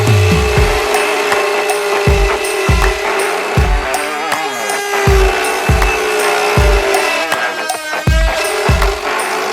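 A power tool mills out a part during engine work involving ARP head studs, making a steady mechanical hum broken by regular heavy thuds about twice per second.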